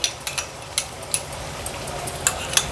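A spoon stirs and scrapes in a pot with scattered light clinks as curd is stirred into a gravy for jackfruit biryani, over a faint steady bubbling simmer.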